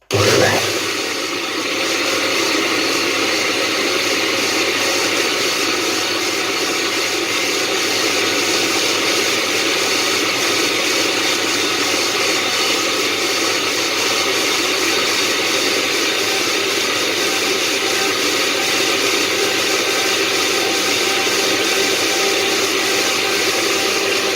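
A blender starts abruptly and runs with a loud, steady whirring motor drone that continues unchanged throughout.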